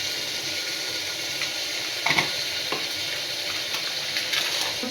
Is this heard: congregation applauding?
no